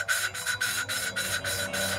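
Rhythmic rasping strokes, about seven in a row, as a screw is turned by hand, each twist a short grinding scrape with tiny pauses between.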